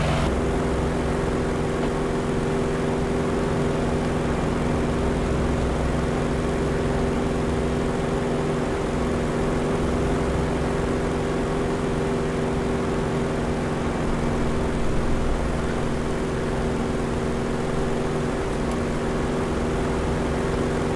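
FG-1D Corsair warplane climbing after takeoff with flaps still out over Kauai, Hawaii, in a flight simulator game, a steady, loud, unbroken propeller engine drone that holds constant throughout.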